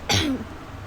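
One sharp, close cough from a person with a cold, a short explosive burst that falls away into quiet room tone.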